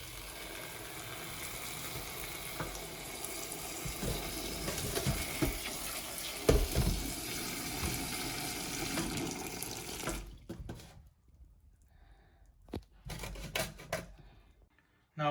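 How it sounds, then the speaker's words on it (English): Water pours into a pot to boil mushrooms, a steady rushing splash lasting about ten seconds before it cuts off, leaving a few quiet clatters and knocks. "Now we add water to boil."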